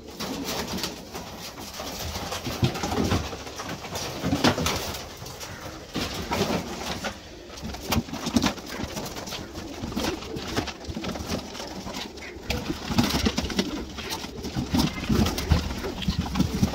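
Pigeons coo in a low, throaty murmur amid constant rustling and shuffling, a busy close scene with scattered clicks and no speech, as pigeons are moved into cartons for cargo shipment.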